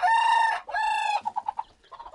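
A chicken nearby lets out two drawn-out squawking clucks, then a quick run of short, sharp clucks, with no other sound.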